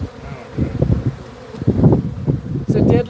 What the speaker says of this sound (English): Wow, look at all these bees.